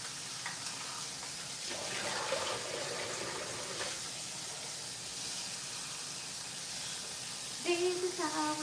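Water runs steadily from a kitchen tap while something is washed, a continuous hissing splash at close range, with brief clinks and a faint voice near the end.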